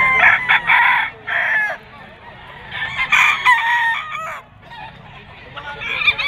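A regular gray Bull Stag gamefowl rooster crows loudly and close at a pet market in Bocaue, Bulacan, with repeated harsh crows and clucks, other fowl calling around it and faint market chatter beneath.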